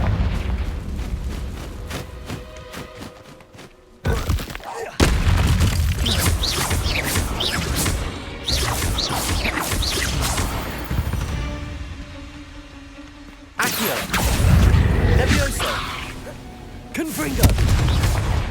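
Confringo blasting-spell explosions in Hogwarts Legacy on Xbox Series X: a series of heavy booms with rumbling tails, separated by short gaps, and a voice calling out in between.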